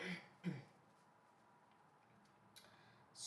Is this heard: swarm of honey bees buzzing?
no